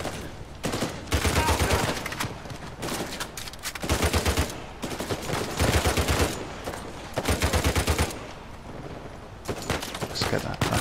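Repeated bursts of rapid automatic gunfire in an Uncharted 4 shootout, loud and close, coming in dense volleys separated by short pauses across the whole stretch.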